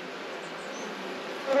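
Honeybees buzz steadily around an opened nuc hive, a close, continuous droning hum holding at an even level without any voices.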